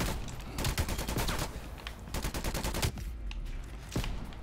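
Rapid automatic gunfire in Black Ops Cold War rattles in dense continuous bursts, loud and close, followed by a brief pause and a few scattered shots.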